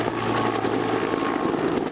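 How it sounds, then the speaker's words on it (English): Firefighting helicopters fly overhead above a wildfire, their steady, loud rotor chop and engine roar filling the air continuously without pause. "And in the air, helicopters dropped 300 gallons of water to prevent the fire from spreading."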